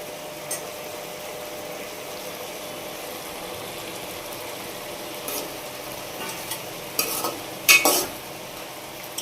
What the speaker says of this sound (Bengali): আবার একটু নেড়ে দেওয়া হচ্ছে।